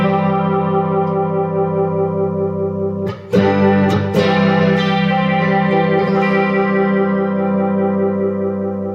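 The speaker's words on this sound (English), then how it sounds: "you can hear the CS9 kind of does vibrato better if you like that slight pitch shift" Electric guitar played through a vintage Ibanez CS9 chorus pedal, sustained chords with a steady vibrato-like pitch wobble, loud and alone, with a brief break and a few sharp strums near the middle.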